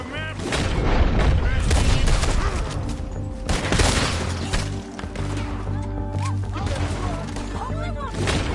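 Rapid bursts of gunfire in the Red Dead Redemption 2 video game crack loudly and repeatedly over dense battle noise. A voice talks over the shooting.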